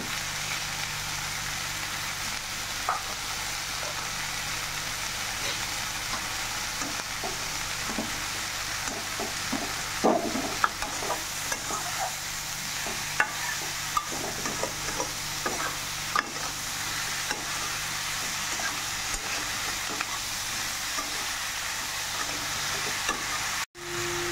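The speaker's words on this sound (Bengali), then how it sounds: "বেগুনগুলোকে ফ্রাই করতে হবে ভালো করে, খালি যেন গলে না যায়" Eggplant pieces frying with onions and turmeric powder in a pan, giving a steady close sizzle with occasional stirring scrapes and clicks, no talking.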